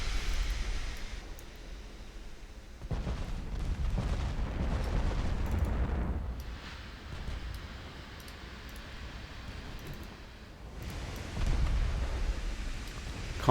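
Naval gunfire from warships in a strategy game: deep booming salvos rolling in waves, each burst swelling into a heavy rumble before fading, then another heavy volley near the end.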